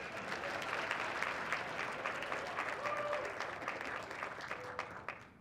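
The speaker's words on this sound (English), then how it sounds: "We will always accept applause." An audience at a community breakfast applauds, dense sustained clapping from a roomful of people that holds steady and then tapers off at the end.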